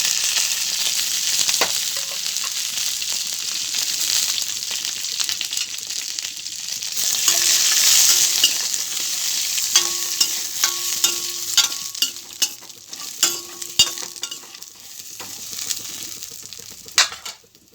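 Green chillies and coconut fry in oil in a pan for coconut chutney, a bright steady sizzle joined by stirring scrapes and a run of sharp metallic clinks toward the end.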